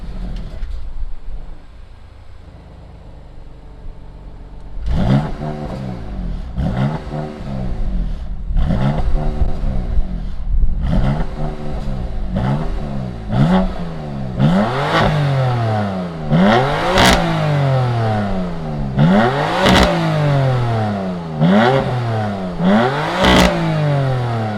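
2020 BMW M2 Competition engine starting up after a quiet idle, then revved repeatedly in sharp climbing bursts that fall back between blips, loud and close.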